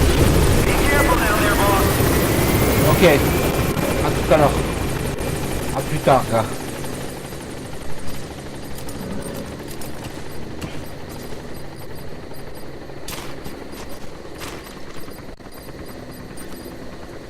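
A helicopter's rotor drone thumps and whirs steadily in the video game Metal Gear Solid V: The Phantom Pain, fading gradually, while a couple of people exchange brief words over it.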